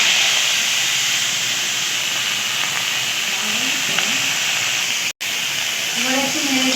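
Washed drumstick stalks go into hot mustard oil with black cumin, setting off a loud, continuous hissing sizzle that carries on evenly, broken by a momentary cut, with faint low tones underneath.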